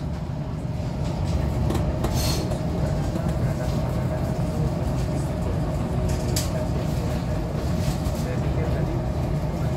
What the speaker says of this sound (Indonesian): Kereta Pangandaran telah tiba di Stasiun Kiara Condong.